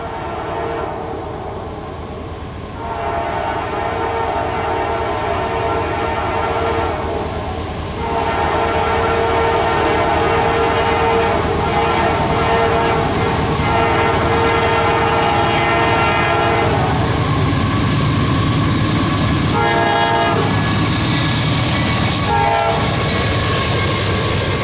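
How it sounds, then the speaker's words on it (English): CSX freight train I-03124 led by a GE AC44CW locomotive in YN2 paint on the CSX A Line, a close loud horn blowing in long and short blasts over heavy rumbling wheels and engine. "Minutes behind them was train I-03124, led by a YN2 AC44CW GE locomotive"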